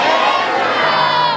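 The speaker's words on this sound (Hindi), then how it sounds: "तो बुलंद आवाज में जयकार लगाइए ना" A large crowd at a devotional kirtan roars a loud, sustained chant, many voices blending into one dense cheer.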